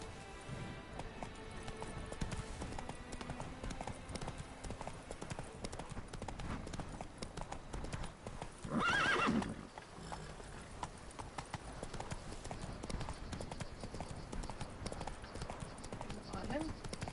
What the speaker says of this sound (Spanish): Aquí va el caballo.